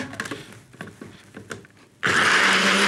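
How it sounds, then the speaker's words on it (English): A blender starts up abruptly partway through and whirs loudly and steadily, mixing a chunky coconut sauce after a stretch of light kitchen clatter. "In a blender."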